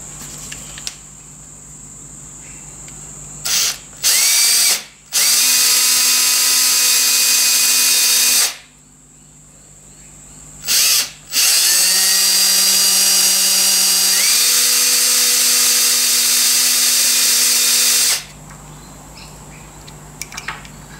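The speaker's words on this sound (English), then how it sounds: "I'll just pilot drill those holes" A power drill whines loudly in long bursts while pilot drilling holes in metal, pitch rising as it bites in, separated by short pauses and a few brief starts.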